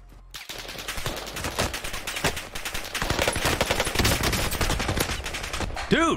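Rapid gunfire from the Warzone battle royale game during a 2v2 tournament match, dense bursts of automatic shots sustained for several seconds at close range, with brief talk underneath.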